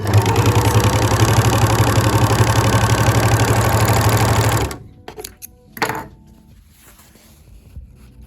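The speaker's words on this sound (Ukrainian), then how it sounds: "на даному етапі оверлок працює непогано" An overlock sewing machine runs at steady speed with a loud, even mechanical hum and rapid stitching chatter for several seconds, then stops, leaving a few faint handling clicks.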